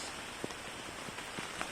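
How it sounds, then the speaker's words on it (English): Rain falls on the leaves of a woodland canopy, a soft, steady patter with scattered heavier drops tapping at irregular moments, fairly faint and even throughout, with no voices. "It started to rain a bit more, to be honest."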